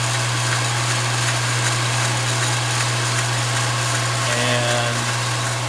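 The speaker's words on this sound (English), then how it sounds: "Start the master start button here, and then we have a 1-speed there, it's 2-speed motor." Emco Maximat Super 11 lathe with a two-speed motor running, a steady mid-pitched electric hum with a constant low drone and faint mechanical whir, close by and unbroken throughout.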